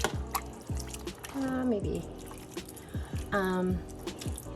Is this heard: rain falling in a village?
no